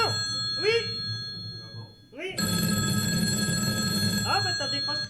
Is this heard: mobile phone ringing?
yes